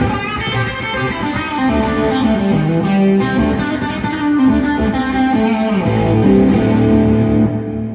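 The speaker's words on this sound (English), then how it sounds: "You still can hear a lot of reverb, but it's kind of behind my tone" Electric guitar played through a Carl Martin Headroom Mini reverb pedal, with plenty of reverb set back behind the dry tone. Chords and notes ring steadily and loudly for the whole stretch, with no talking.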